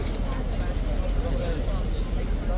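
A King's Guard trooper's horse clip-clops on hard ground, hooves sounding under the loud murmur of a crowd of tourists talking nearby.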